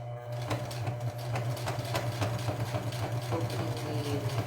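A domestic sewing machine stitches piping using a piping presser foot, running as a steady close hum with rapid even needle clatter throughout, no voices.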